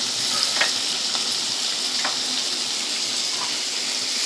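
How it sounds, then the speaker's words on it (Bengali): Chopped onion frying in a pan with ginger and garlic for a quick paneer dish: a steady, close hiss of sizzling oil with a few soft stirring scrapes, no talking. "কুচিয়ে রাখা পেঁয়াজটাকেও আমি এর সঙ্গে দিয়ে দিলাম"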